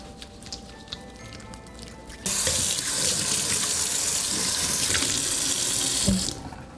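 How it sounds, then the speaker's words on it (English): Tap water runs steadily into a sink for about four seconds while hands are washed before holiday cookie baking, a bright, even hiss that starts abruptly and stops cleanly, with quiet room ambience before and after. "let's wash our hands."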